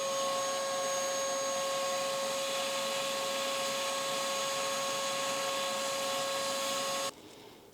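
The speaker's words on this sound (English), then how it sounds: "that shop vac will prevent this from going inside the bearing" Steady, loud whine of a shop vac running close by beside a Hellcat supercharger bearing on a 5.7 Hemi install, with a high tonal hum held throughout before cutting off abruptly near the end.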